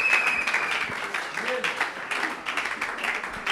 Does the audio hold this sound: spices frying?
no